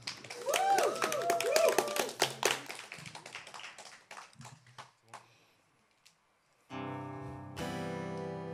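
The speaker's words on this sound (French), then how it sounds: "Applaudissements." A small audience at an intimate living-room concert claps in a burst of scattered hand taps that thin out and fade to near silence, before music starts up.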